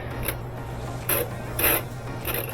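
An old Kenmore 70 Series washing machine that won't spin runs with a steady low mechanical hum, broken by a few brief louder grinding, ratcheting surges; no one talks.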